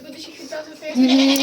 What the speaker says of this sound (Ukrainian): Ох ти вредна коза.